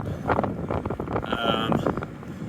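Wind buffets the microphone while bikepacking in Utah's High Uintas, a steady rushing roar with gusty swells throughout.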